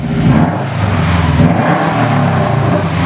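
Subaru WRX engine revving loudly through a 3-inch Borla cat-back exhaust, a steady deep rumble filling the whole span, close by with no talk.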